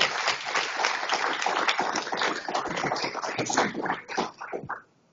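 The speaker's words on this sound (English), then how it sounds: "How about a round of applause for Johnny?" An audience at the 2024 ON Agri-Tech Pitch Competition claps, a dense, moderately loud patter of many hands holding steady for a few seconds before thinning to scattered claps and fading out.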